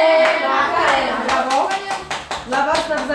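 Children clap for a classmate, a close, loud burst of uneven hand claps that quickens into a ragged rhythm, mixed with a voice talking.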